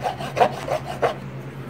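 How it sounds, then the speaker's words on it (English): The contacts of an NES game cartridge are scrubbed in a few short, close rubbing strokes, a quiet rasping back and forth that fades into near silence. "Then use the dry end, scrub the top, scrub the bottom."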